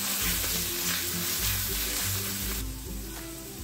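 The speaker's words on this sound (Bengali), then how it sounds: "পেঁয়াজটা হালকা ভাজা হয়ে এলে দিয়ে দিচ্ছি 1/2 চামচ আদা বাটা।" Onions fry in oil with ginger paste and a ground spice paste added, giving a loud steady sizzle up close that eases slightly toward the end, with occasional stirring scrapes.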